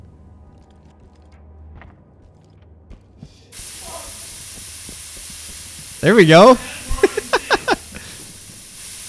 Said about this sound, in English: I'm a bit trigger happy with that pepper spray